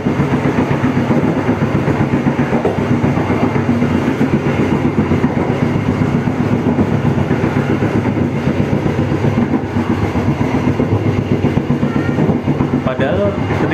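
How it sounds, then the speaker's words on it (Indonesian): Economy-class passenger train speeding through Bekasi, heard from inside the carriage: a loud, continuous rumble with rhythmic clickety-clack of wheels over rail joints, steady throughout. "Kapan lagi nih bisa ngebut di Bekasi naik kereta yang kelasnya ekonomi"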